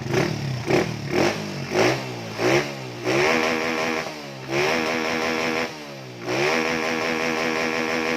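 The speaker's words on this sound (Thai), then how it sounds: "เสียงมันจะลั่นขึ้นมาเลยวักวักครับมันจะเร็วเร็วช่วงท้ายนะครับคันนี้" A Honda Wave 125 motorcycle with a modified step setup, revving hard: several quick throttle blips rising and falling, then long sustained high revs with brief dips, loud and close with no talking.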